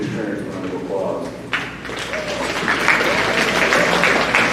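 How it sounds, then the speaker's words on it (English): A graduation audience applauds in a sustained, fairly close wave of clapping that swells slightly toward the end, with voices mixed in. "Please give your parents a round of applause."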